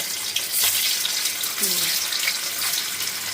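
Paneer pieces are frying in white oil and ghee with a loud, continuous sizzling hiss close by. A brief voice is faintly audible partway through.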